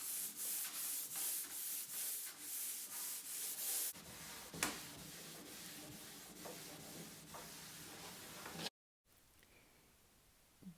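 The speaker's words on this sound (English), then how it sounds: "I gave it a light sand with a 180 sanding paper" Light hand sanding of a primed pine wood cabinet with 180-grit sandpaper, close rhythmic rasping strokes at a steady pace, then quieter scuffing before a brief cutout.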